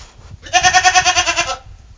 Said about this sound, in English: this is our boy goat right here.